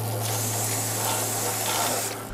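A steady, close aerosol lubricant hiss sprayed onto a dusty bicycle chain runs the whole time, broad and even, with a low motor-like hum underneath and no voices.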